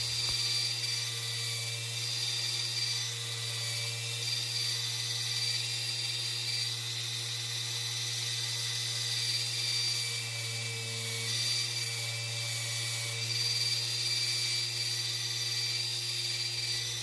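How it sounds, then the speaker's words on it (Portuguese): Small scale-model parts for a D20 pickup are sanded with a power tool, giving a steady, continuous whine and hum that runs unbroken for the whole stretch at a moderate level. "Mas primeiro nós vamos lixar as pecinhas aí."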